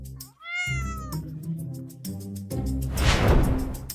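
A cat gives a rising and falling meow, followed by further meowing with harmonic cries and a noisy, rougher burst near the end, close and clear.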